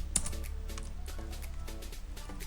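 Keys clack on a faulty computer keyboard during network configuration work on a PC, a quick irregular run of soft clicks and taps over a low steady hum, close and fairly quiet.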